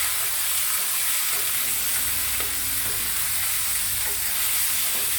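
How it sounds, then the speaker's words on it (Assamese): Chicken fries in a pot for an Assamese curry with papaya and curry leaves, giving a loud, constant sizzle. Scraping stirs run underneath it, and no one talks. "আৰু লৰাই দিম।"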